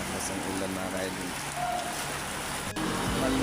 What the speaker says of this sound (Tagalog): Oy, malakas ang ulan mga idol.